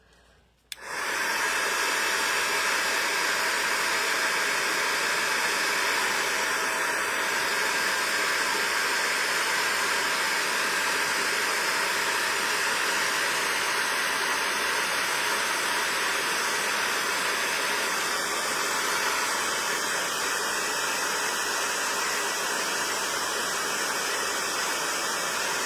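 After a quick click, a heat tool blows a steady, loud airy roar over gold embossing powder on a flowered card, holding almost unchanged for the whole stretch with no voices.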